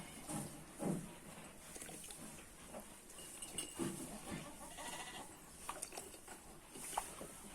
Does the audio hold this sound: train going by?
no